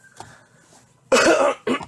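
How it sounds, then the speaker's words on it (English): A man's short, sharp cough bursts out twice near the end, loud and close, after a stretch of near silence with a faint earlier throat sound. "I'm trying not to do that little cough thing"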